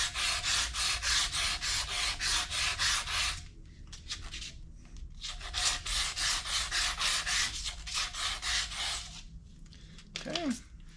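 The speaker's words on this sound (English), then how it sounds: "Our side covers they were sand cast and then painted black, but they're polished, so we're going to repolish those" Sand-cast engine side covers from a rare Kawasaki F11M are being repolished, giving steady rhythmic rubbing strokes in long runs with short pauses, close and fairly loud, with a brief vocal sound near the end.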